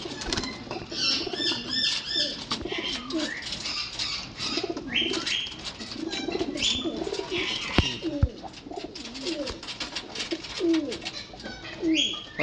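Many pigeons coo continuously at close range, overlapping soft throaty calls, with occasional wing flaps and light chirps mixed in.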